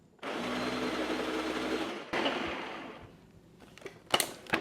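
A blender purees ingredients for a makhani sauce, whirring steadily for about two seconds, stopping for a moment and starting again, then winding down into a few clattering knocks.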